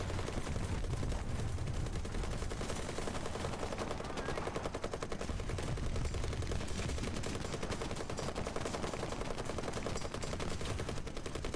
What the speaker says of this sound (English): You're getting an airstrike.